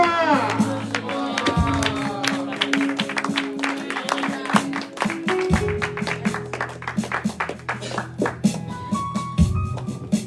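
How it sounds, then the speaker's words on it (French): A church congregation at an evening gospel conference cheers and claps together, crowd voices rising over rapid applause with music or sung tones underneath, steady and lively throughout. "Ton acclamation est bizarre"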